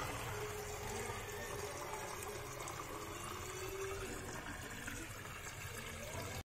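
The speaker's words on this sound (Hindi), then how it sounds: "अब जल्दी से एक मग्गा पानी भरते हैं और चलते हैं" Tap water pours steadily into a mug for several seconds, a continuous, fairly faint rushing with a slight rising tone as the mug fills.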